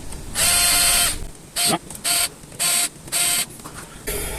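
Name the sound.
tightening rifle scope mount screws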